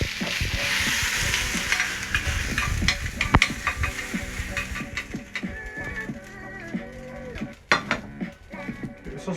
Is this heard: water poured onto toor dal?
no